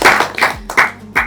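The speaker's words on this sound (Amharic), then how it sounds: "ጭብጨባ" A gathering at an iftar in a restaurant breaks into applause, several short bursts of clapping that rise and fall, loud and close.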